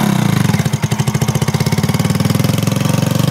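Motorcycle engine revving, a loud close-up throbbing pulse with rapid regular firing beats that rises briefly in pitch, then settles into a steady fast rhythm.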